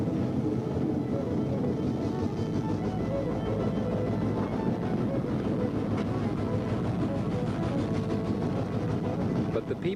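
A 1970s Ulster & Delaware Railroad train rumbles steadily at length, a continuous low mechanical roar without breaks, heard from close by.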